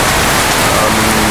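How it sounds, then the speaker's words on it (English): Steady rain from a storm that came in from inland and is drifting westward out over the ocean on the Konkan coast of Maharashtra, a dense, even hiss of falling water filling the short stretch without a break. "Now a lot cooler, so it's rain."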